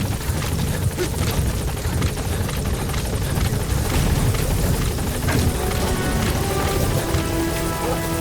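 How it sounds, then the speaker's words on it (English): A support helicopter in the video game Metal Gear Solid V: The Phantom Pain sets down at a landing zone, its loud rotor roar and engine rumble holding steady and close throughout. "Support helicopter has arrived."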